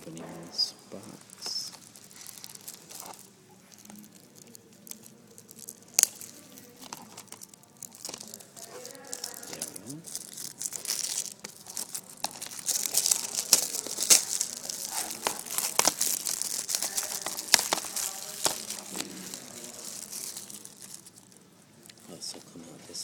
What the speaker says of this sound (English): Opening this box.